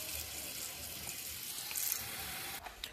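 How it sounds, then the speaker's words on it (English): Kitchen tap water running into a kettle for tea, a steady moderate rush of flowing water with a slight change in tone near the end as the stream shifts. "I'm just getting the water for the tea"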